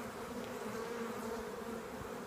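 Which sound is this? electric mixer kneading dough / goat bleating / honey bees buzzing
honey bees buzzing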